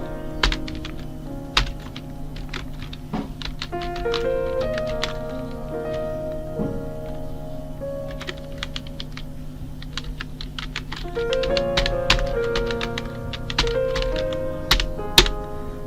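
Someone types on a computer keyboard in quick, irregular bursts of close, crisp key clicks, with a few heavier thunks and short pauses between runs.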